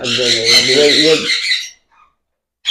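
A ring-necked parakeet gives a loud, harsh squawk up close, one sustained raspy call, followed by near silence and the start of another call.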